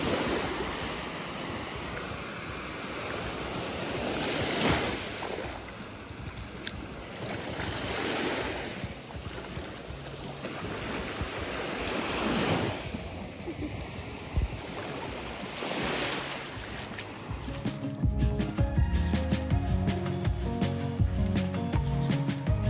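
Sea waves wash onto a sandy beach at Orihuela Costa in Spain, rolling in as loud, repeated surges with wind buffeting the microphone. Near the end, a rhythmic tonal sound joins the surf.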